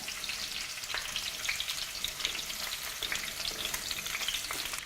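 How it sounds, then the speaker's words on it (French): Garlic fries gently in hot oil for a penne and pepper dish, a soft continuous crackling sizzle heard close and fairly quiet, with no talking. "Mon huile est chaude, donc je vais le faire un petit peu frire dedans"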